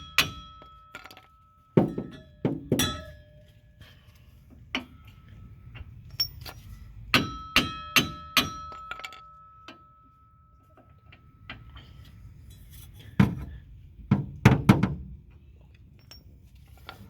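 Hammer tapping a shock absorber into place on a 2008 Lincoln Mark LT, a run of sharp metallic knocks in scattered clusters of two to four, close and loud against near silence.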